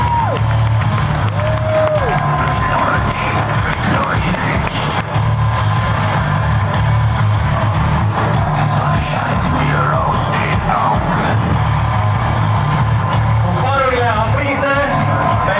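Spectators at an evening air show cheer and shout in a steady loud crowd din, with whoops and children's yells rising over a low rumble.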